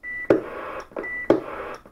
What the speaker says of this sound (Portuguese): Bip.